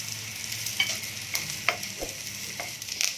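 Brinjal and tomato fry in a pan for chutney, a soft steady sizzle broken by scattered clicks and scrapes of stirring, close and quiet with no talk.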